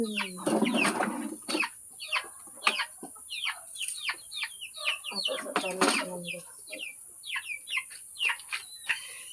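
Penned chickens cluck in a busy, overlapping chorus of short calls, near and fairly loud, with sharper squawks breaking through over a steady high background hum.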